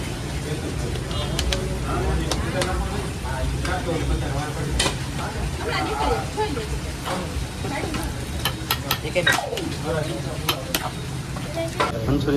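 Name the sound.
Manchurian stir-frying with sauce at a street food stall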